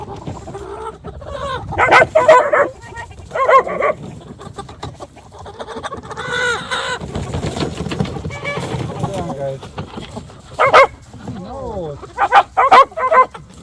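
A dog barks in short bursts between stretches of talk, with clucking chickens nearby, outdoors on a farm.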